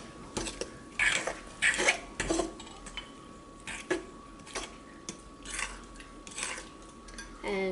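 A utensil scrapes around the sides of a mixing bowl, gathering flour for chocolate mayonnaise cupcake batter, giving irregular clinks and scrapes, close and moderately loud, with short pauses between strokes.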